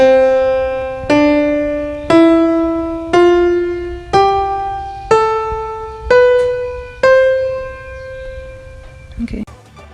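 Eight notes climb one by one in an even rhythm, each struck and left to ring briefly, rising stepwise to an octave above the starting pitch.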